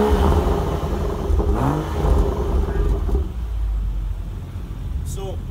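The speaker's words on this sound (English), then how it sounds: "I'm just gonna hop in, give you a few revs here" A BMW with an M Performance active exhaust revs up once and settles into a low rumbling idle, close by, with a brief higher whine near the end.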